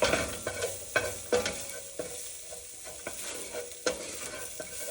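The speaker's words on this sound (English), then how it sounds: "we're just gonna keep stirring and browning these for just another, I don't know, 30 seconds or so" Beef pieces for steak frites are stirred and browned in a frying pan, giving repeated sharp scrapes and clatters of a utensil over a continuous hiss of sizzling, with no one talking.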